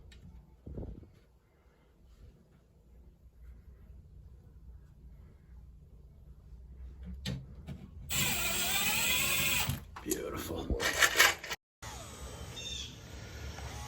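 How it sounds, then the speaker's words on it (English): A NAVAC automatic flaring tool flares quarter-inch copper line during a mini split install, its motor whirring and ratcheting in bursts after a long quiet stretch, close and fairly loud. "Got the NAVAC automatic flaring tool. It makes really nice flares."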